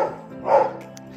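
A dog gives one brief bark close by in a quiet room, a single sharp yip-like burst with no voices over it.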